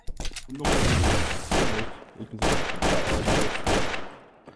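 Bursts of rapid gunfire from a TTT round of Garry's Mod crackle in loud, dense volleys separated by brief gaps, close and harsh, with faint voices mixed in.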